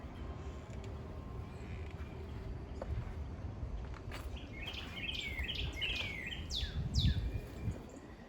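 Several birds chirp and tweet outdoors in short bursts, fairly near, over a steady low background rumble.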